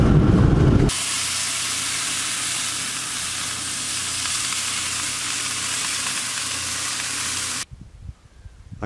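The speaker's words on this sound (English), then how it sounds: "I'm just about done cooking up lunch." Lunch fries in a pan at a farmhouse, a loud, continuous hissing sizzle that holds steady for several seconds before cutting off, with brief muffled rustling at the edges and no talking.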